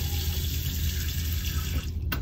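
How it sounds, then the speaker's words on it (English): Tap water runs steadily into a sink aboard a cruise ship, a constant close hiss and splash with no voices. "So all you do is run the water,"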